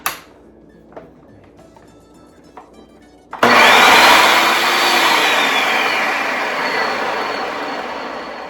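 A food processor blends kasseri cheese with a pinch of Aleppo pepper, starting abruptly after a few faint knocks and then running as a loud, steady whirring roar that slowly eases in pitch over several seconds.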